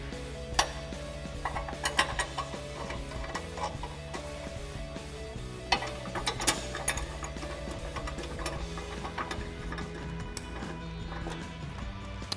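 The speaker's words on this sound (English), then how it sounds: "And then using a 13 millimeter socket to snug them up" A ratchet with a 13 mm socket snugs up headlight bolts on a 2011-2016 Ford Super Duty, giving repeated quick clicking bursts with brief pauses between strokes, close and fairly quiet.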